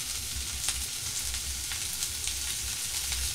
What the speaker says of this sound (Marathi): कढीपत्ता वाटण सगळं तेलात परतून घ्यायचं आहे.